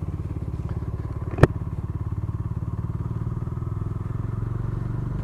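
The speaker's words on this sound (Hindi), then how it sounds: "चलो इस बाइक को भी चलाते हैं।" Steady, close engine note from a Bajaj Dominar 400 BS6 motorcycle on the road, a 2020 model rated at 39 BHP, holding an even pulsing rhythm throughout with one sharp knock or thump partway through.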